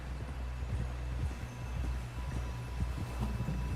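Horse hooves clip-clop steadily in the Red Dead Redemption 2 video game, close and continuous over a low rumbling background, with no talk.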